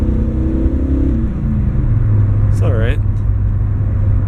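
Junk car engine running while driving, a steady low drone with rising and falling revs heard from inside the cabin, with a brief spoken remark partway through.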